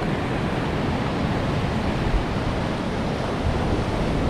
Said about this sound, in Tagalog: dun sa harap ng spot natin hindi, dahil malalaki ang alon. Grabe lalaki ng alon